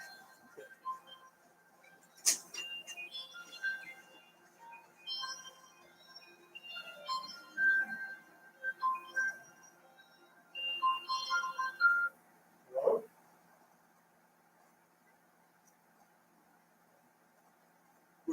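Phone ringing indoors in a quiet room, a series of short bright electronic chirps and warbling tones in irregular bursts, fairly faint, then going silent.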